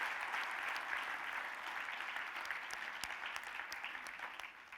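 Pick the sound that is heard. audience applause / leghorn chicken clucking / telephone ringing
audience applause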